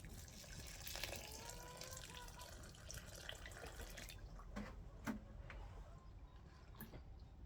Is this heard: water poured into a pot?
yes